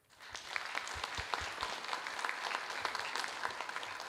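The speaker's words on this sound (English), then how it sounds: "Let's do one more round of applause for Garrett." Conference audience applauding a speaker at a radio technology event, a dense wash of many hands clapping that swells quickly and holds steady, with sharp individual claps standing out near the front.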